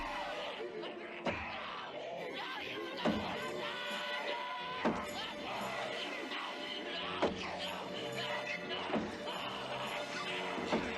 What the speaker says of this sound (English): Scott goes fucking ham on Shelley as he chops off all her limbs.